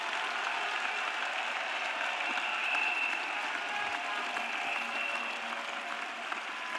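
Congregation clapping for Jesus during a church intercession and prayer service: dense, steady applause from many hands that fills the room without a break, with no voices over it.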